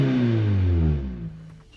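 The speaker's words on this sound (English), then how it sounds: "you can definitely hear the supercharger for sure" A supercharged V6 engine in a 2012 Lotus Exige S revs hard with a rising then falling tone, loud and close, before easing off toward the end.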